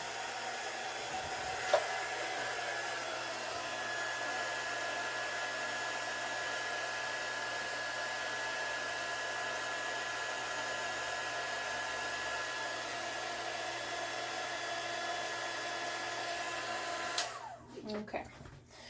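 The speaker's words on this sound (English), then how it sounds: "the heat gun does curl my cardstock a little bit" Heat gun melting embossing powder on cardstock, a loud, steady blowing whir that runs continuously for most of the clip before cutting off near the end.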